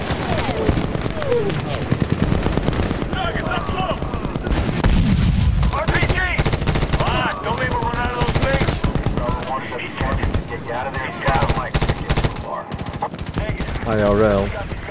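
Medal of Honor machine guns and rifles lay down covering fire in heavy, continuous rapid bursts at close range, while voices shout over the battle.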